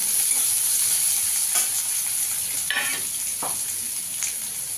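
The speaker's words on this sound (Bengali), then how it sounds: "একটু ভালো করে ভেজে নেবো এগুলো" Green chillies frying in a pan, with a constant loud hissing sizzle and a few scraping stirs of a spatula.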